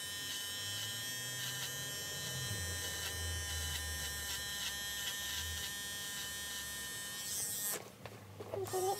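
Electric hair clippers buzzing steadily at close range during a haircut in a garage barber setup, a continuous whine with small shifts in pitch as they work through hair, cutting out briefly near the end.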